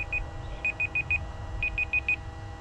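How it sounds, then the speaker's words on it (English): High-temperature alarm on an engine gauge, sounding in quick groups of sharp electronic beeps, two then four then four, over a low steady hum. "that's my alarm"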